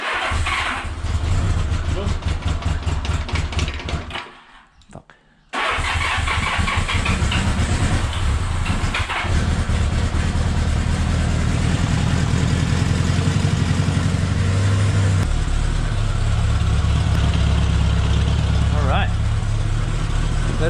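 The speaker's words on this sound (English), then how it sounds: "Let's start it." A 1978 Honda Goldwing motorcycle engine cranks, cuts out briefly, then catches and settles into a loud, steady idle with a low rumble, close by, while someone talks over it.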